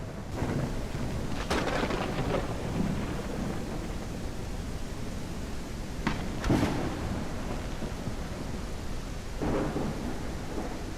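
Steady heavy rain with a couple of rumbling thunder cracks rolling through in a zombie survival video game, continuous and fairly loud with no voices.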